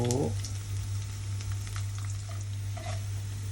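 Garlic and ginger frying in hot oil, a steady close sizzle with a faint stir or clink near the start and no talk.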